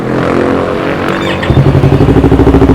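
A 2015 Yamaha YZF-R3 motorcycle with an aftermarket exhaust cranks over and catches, then settles into a loud, close, rhythmic idle with steady pulsing beats.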